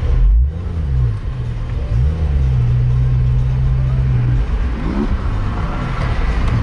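A Porsche GT3 RS running in sport exhaust mode with the PDK in sport setting rumbles steadily from inside the cabin, with a rising rev near the start and people talking over the drone.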